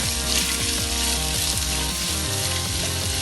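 Sliced onions sizzle and fry steadily in hot ghee alongside green chilli and ginger, a dense continuous crackle under a low steady hum with no voices.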